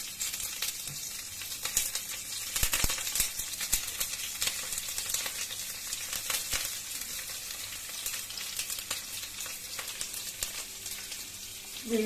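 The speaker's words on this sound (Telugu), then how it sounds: "స్టవ్ సిమ్లోనే పెట్టుకొని వేయించాలి." Green chillies and cumin seeds sizzle steadily in hot oil in a pan over a low flame, a continuous close frying crackle with scattered sharp pops and some stirring, no voices.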